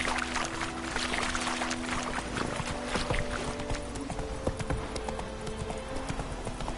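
Hooves of Roach, Geralt's horse in The Witcher video game, clip-clopping at a steady walking pace, close and distinct over a busy ambient background with a faint tonal hum.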